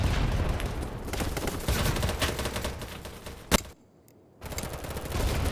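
Gunfire in the shooter game Battlebit, rapid automatic bursts and overlapping shots rattling continuously, then a sharp loud crack, a brief near-silent gap, and more firing resuming.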